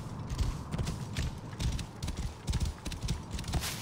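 Horse hooves clip-clopping at a steady riding gait in Assassin's Creed Origins, a continuous rhythmic run of close, moderately loud hoofbeats with no talking.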